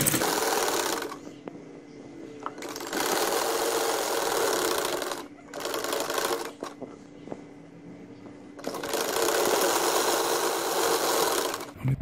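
A sewing machine stitches the seam of a baby boy's kameez in several bursts of rapid, steady whirring, with brief quiet gaps between the runs.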